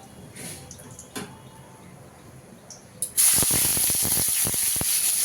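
Onion dropped into hot oil already tempered with dried red chilli and cumin, a soft background hush giving way suddenly to a loud, close, sustained hissing sizzle with popping crackles.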